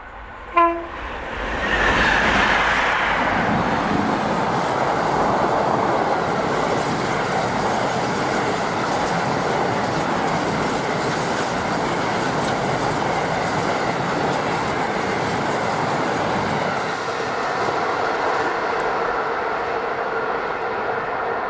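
A DRS Class 66 diesel locomotive hauls a container train downhill, a sharp horn blast at the start, then a loud, sustained diesel roar and rolling wagon rumble that fades slightly near the end.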